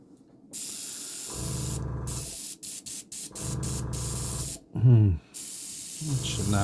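A Gaahleri GHAD-39 airbrush spraying flat black paint gives loud, close bursts of steady hiss separated by short pauses and brief clicks, with a few seconds of talk in between.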